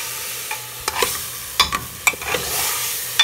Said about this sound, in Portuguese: Começou a querer grudar aqui, eu vou continuar mexendo.